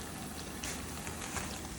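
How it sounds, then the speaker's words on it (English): Oil drips and crackles off golden fried corn patties lifted from hot oil, a soft, continuous sizzling patter at low volume. "Let the oil drip."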